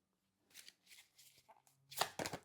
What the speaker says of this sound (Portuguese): Eita que tá caindo as cartas tudo